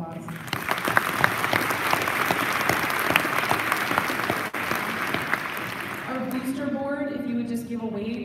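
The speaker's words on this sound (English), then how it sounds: "So let's give them a round of applause." A school concert audience gives the program graduates a round of applause, loud and sustained clapping that fades as a voice begins speaking near the end.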